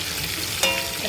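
Masala-coated fish fries in oil in a pan, a dense, even sizzle with a brief bright clink of a utensil partway through.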